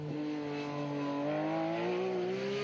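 A Datsun race car at the Leyburn Sprints, its engine note holding steady and rising slowly as it drives close by, loud and alone.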